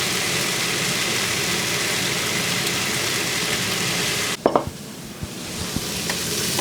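Black soybean sauce and sugar sizzle loudly in a pan with a constant frying hiss, then a few sharp scraping stirs knock against the pan near the end as the sizzle eases.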